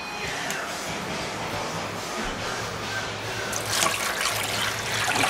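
Universal Nutrition bottled water is poured in a home kitchen during crock pot cooking, a steady close splashing rush that swells a little louder toward the end.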